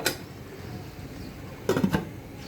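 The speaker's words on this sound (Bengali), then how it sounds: "তার জন্য একটু ঢাকনা দিয়ে দিচ্ছি এটার মধ্যে।" A lid set down on a cooking pot of pumpkin, dried fish and shrimp braising over medium heat, giving a brief cluster of metallic clinks and knocks near the end after a quiet stretch.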